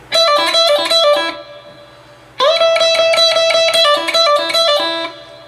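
Guitar plays a quick picked note followed by two rapid pull-offs, the triplet figure repeated in bursts with a brief pause in the middle, bright and close.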